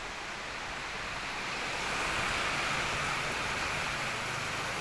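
Heavy rain makes a steady, dense roar that swells slightly louder partway through, with no voices heard.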